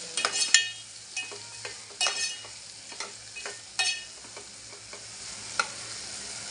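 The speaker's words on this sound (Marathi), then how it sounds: "त्या पण व्यवस्थित असे टॅमॅटो मसाल्यामध्ये परतून घ्यायचे" Drumstick pods sautéed in tomato masala for a spicy dal: steady close sizzling of frying with repeated scraping stirs at an irregular rhythm, with no talking.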